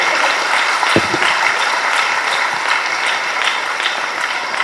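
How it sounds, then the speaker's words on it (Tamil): A packed hall audience applauds children at a national-level arithmetic competition, a dense, steady roar of clapping filling the room throughout at strong volume. "அந்த குழந்தைகளுக்காக ஒரு அரங்கம் நிறைந்த கைத்தட்டலை நீங்கள் தந்தாக வேண்டும்"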